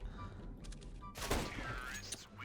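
A Deagle pistol fires in a video game with a sharp, loud shot burst after a quieter stretch, and a voice is heard faintly around it.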